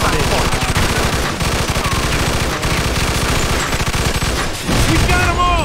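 Sustained machine gun fire in Mafia 2, rapid continuous bursts of loud close shots with a brief gap and a hard booming restart near the end, with a voice shouting over the gunfire.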